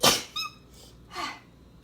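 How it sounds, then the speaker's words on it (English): A single sharp sneeze bursts out near the start, loud and close, followed by a softer breathy exhale a second later in an otherwise quiet kitchen. "Uh-oh, I feel like I'm going to sneeze."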